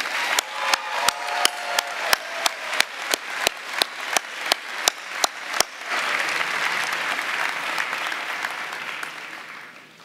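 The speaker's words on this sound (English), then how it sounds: "Let's give them a round of applause." Graduates at the University of the Arts 2018 commencement get a round of applause: a string of evenly spaced sharp hits gives way to a dense swell of crowd clapping that holds for a few seconds, then fades out.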